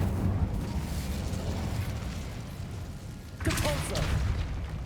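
In Hogwarts Legacy, the Incendio fire spell bursts out as a rumbling blast of flame, a sustained roar that flares again sharply near the end, with a voice briefly heard over it.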